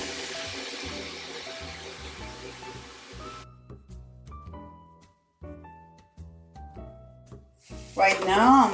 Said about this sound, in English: We are going to add the meat to the frying onion and let it sizzle beautifully together.